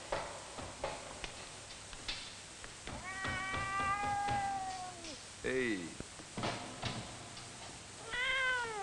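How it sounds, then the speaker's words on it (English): A cat meows several times nearby, one long drawn-out meow followed by shorter, rising calls, amid soft ticking and handling noises, with a person briefly speaking. "Hello, little cat."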